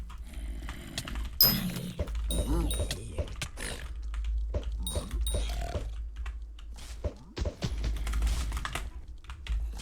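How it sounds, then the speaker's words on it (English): Rapid computer keyboard typing runs through the whole stretch as irregular clicky bursts, close and fairly loud, with game sounds and a voice in the background. "Y'all like the keyboard sounds?"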